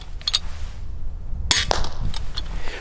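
An 80-pound Steambow Stinger crossbow fires: a sharp snap at about the midpoint, preceded by a couple of light clicks and followed by a quick rattle of follow-up transients over steady low background rumble, no talk.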